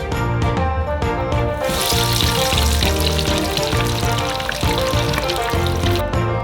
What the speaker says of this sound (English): Now we're going to send all the corn in to roast.